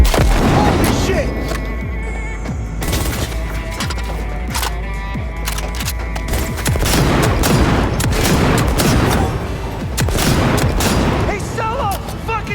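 Heavy gunfire and booming blasts during a Cyberpunk 2077 boss fight, loud and continuous with rapid automatic bursts and explosions, voices shouting over the battle.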